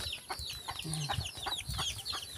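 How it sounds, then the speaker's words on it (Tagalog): Several small chickens cluck and chirp in a busy, continuous chorus behind a house, fairly close, with scattered short calls overlapping throughout. "Ang dami, mga manok."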